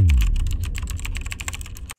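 A Dactyl Manuform ergonomic split keyboard is typed on in a steady, fast run of close, crisp key clacks, loud and up close, then cuts off abruptly.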